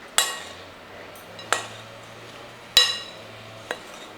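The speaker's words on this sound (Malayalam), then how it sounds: "ഇനി ഇതൊന്ന് ഇളക്കി കൊടുക്കുക." Grated coconut mixture for avalose podi being stirred, with four sharp, separate clinks of a spoon against the vessel spaced over a few seconds, close and fairly loud over a faint low hum, no talking.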